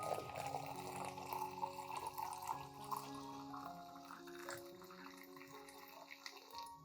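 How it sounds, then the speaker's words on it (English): Warm water pours steadily into a container for a plant-reviving solution, a continuous close splashing and trickling fill with no talk. "Add 500 milliliters of warm water."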